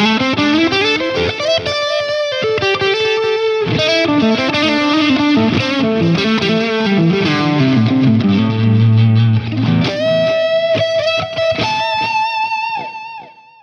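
An electric guitar through a Line 6 Helix with heavy overdrive plays a gritty, sustained riff, chords ringing out loud and alone before fading at the end.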